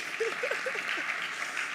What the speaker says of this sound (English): A round of applause for Dr. Linus Okorie.